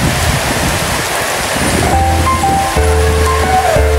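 Steady rain hisses loudly and close. In the second half a low hum and faint tonal notes sound beneath it.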